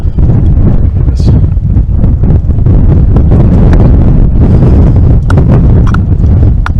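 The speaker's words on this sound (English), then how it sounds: "It's very windy" Strong, steady wind on a Scottish hilltop roars and buffets the microphone, loud and unbroken throughout, with occasional thumps and flutters.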